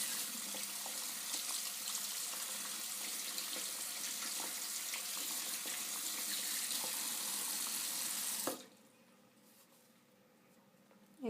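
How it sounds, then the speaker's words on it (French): Makeup brushes are rinsed under a running tap: a steady hiss of water splashing into a sink for about eight seconds, then the flow stops and only faint handling sounds remain. "Surtout bien rincer pour éviter qu'il y ait des produits qui restent dans le poil."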